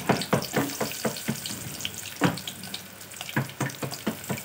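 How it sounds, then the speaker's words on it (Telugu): Chopped onions frying in hot oil in a pan, a close crackling sizzle broken by a series of sharp clatters and scrapes, with no talk. "ఆయిల్ అనేది వేడి చేసుకొని ఉల్లిపాయ ముక్కలు వేసుకోవాలి."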